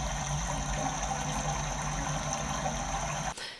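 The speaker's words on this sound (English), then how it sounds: "there's this little machine and it makes the sound of waterfall" A small machine in a school bathroom plays a steady, continuous waterfall-like rushing of water, close by and unbroken, then cuts off abruptly at the end.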